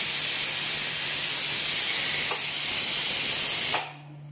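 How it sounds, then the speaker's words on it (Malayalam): A pressure cooker releasing steam in a loud, sustained hiss that holds steady for nearly four seconds, then cuts off abruptly into near silence. "നമ്മുടെ കുക്കറിനകത്ത് ഒരു 5-10 വീസിലായി കേട്ടോ."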